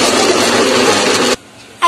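A mixer grinder jar blends a frozen choco banana mixture for homemade ice cream, making a loud, steady, close whir that runs for just over a second before cutting off abruptly.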